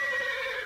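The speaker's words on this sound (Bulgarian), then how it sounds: "Конят иска да ме хвърли от гърба си." A horse gives a single loud, close whinny that carries through the whole short moment with no talk over it.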